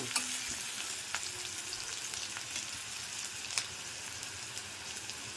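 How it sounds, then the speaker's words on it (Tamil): Onions sautéing in a pan for potato bonda give a steady, close sizzle and crackle throughout, with occasional light taps of a spatula and no voices. "வெங்காயம் ரொம்ப வதக்க வேண்டாம், கொஞ்சமாக வதக்கினா போதும்."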